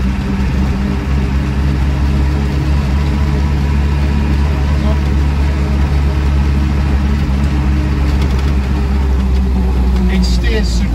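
A Land Rover Lightweight with a 200TDi diesel engine idles nearby, a loud, steady low rumble that churns on evenly without revving for the whole stretch.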